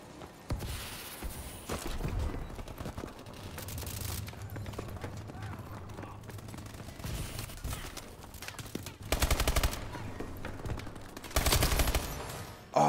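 Rapid bursts of automatic gunfire and single shots ring out in a Call of Duty multiplayer match, several clustered volleys loud and close, with a player talking over the action.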